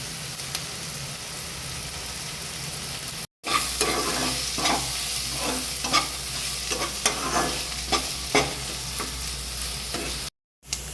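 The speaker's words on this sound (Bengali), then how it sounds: "কিছুক্ষণ পেঁয়াজটা ভাজার পরে অল্প সোনালি রং যখন ধরছে, আঁচটা আমি সিমে দিয়ে ক্যাপসিকামটা দিয়ে দিলাম।" Onion and capsicum fry in a pan over low heat for a dhaba-style chicken bharta, under a steady sizzle. A spatula stirs and scrapes in regular strokes, and the sound cuts out briefly twice.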